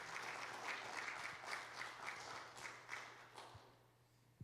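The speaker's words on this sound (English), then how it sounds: "Give him a big round of applause." A small audience applauds steadily for several seconds to welcome a doctor onto the stage at a wellness talk, the faint clapping thinning out toward the end.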